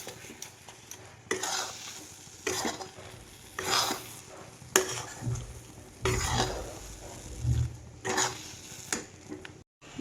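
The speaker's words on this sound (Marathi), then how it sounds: "साखर आणि आवळा छान असं एकजीव होऊन त्यांचा घट्ट असा गोळा होईपर्यंत आहे ना हे मी असं हलवून" Amla and sugar candy mixture being stirred in a pan, with repeated scraping strokes of a spoon against the metal and a light sizzle underneath, close and fairly steady throughout.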